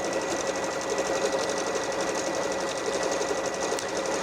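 A Bernette b38 sewing machine stitches a decorative stitch combination with a steady, fast mechanical whir and rapid needle ticking, loud and close, running without pause and with no talking.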